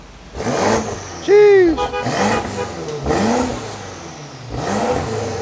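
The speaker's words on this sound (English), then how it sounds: "give me some revs" A car engine revs loudly in several sharp bursts close by, with a voice briefly exclaiming amid the roar.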